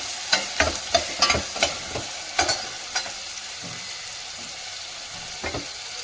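Onion fries in a pan, a steady hiss of sizzling oil punctuated by a quick run of loud spoon scrapes and taps in the first three seconds, then quieter frying with one last knock.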